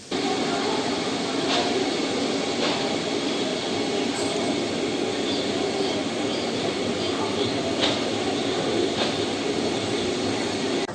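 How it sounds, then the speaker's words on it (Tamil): A steady, broad rumble of the moving Thoothukudi–Mettupalayam train leaving Coimbatore fills the whole stretch, with faint rhythmic clicks recurring over the continuous roar. "நம்ம ட்ரெயின் மேட்டுப்பாளையத்தை நோக்கி ஸ்டார்ட் பண்ணியாச்சுங்க"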